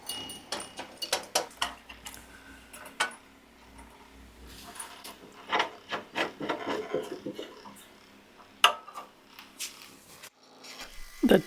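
Hand-sanding a flat, cut-out wooden decorative piece from an old tea trolley being restored, with bursts of close rasping strokes separated by short pauses, ending in a final scrape.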